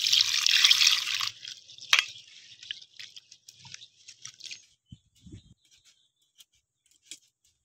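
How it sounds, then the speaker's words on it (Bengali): Mung dal is washed by hand in water, opening with a brief gush of running liquid, then soft scattered drips, swishes and splashes fading toward near silence. "এবার মুগ ডালটা ভালো করে ধুয়ে নেব।"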